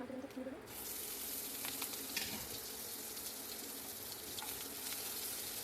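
Panch phoron spices dropped into hot oil in a kadai give a sudden loud, steady sizzle that crackles on without a break, close up and with no talking.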